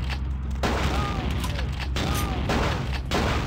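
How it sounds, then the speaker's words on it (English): Shotgun fire in the video game Vampire: The Masquerade - Bloodlines, several loud booming blasts in quick succession amid a dense, noisy mix of game sound. "Just reload the shotgun."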